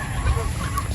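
Gamefowl pullets at a game farm in Batangas clucking close and loud over a steady low background hum, in one short burst of fowl calls.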